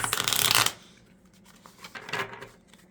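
Moonology oracle cards are shuffled in a loud riffling burst for about half a second, followed by softer sliding and tapping of the cards in the hand.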